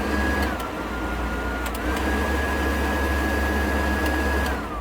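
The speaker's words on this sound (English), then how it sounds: "This next one is my high and low on my fan back here." Heater blower fan inside the cab of a John Deere 1025R tractor runs as a steady, loud whirring drone with a faint whine that shifts pitch slightly, continuous with no talk.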